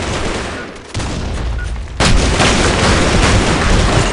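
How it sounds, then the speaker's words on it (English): A grenade explosion in the BlackShot shooter video game, a loud booming blast that jumps sharply midway and then rumbles on over continuing gunfire-like noise. "Grenade."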